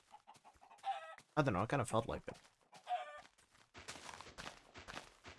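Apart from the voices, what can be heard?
chickens clucking in Minecraft video game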